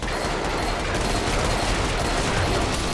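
Steady, unbroken roar of continuous automatic fire from a giant gun in a Christmas-themed video game, loud and dense throughout with no pauses and no voices.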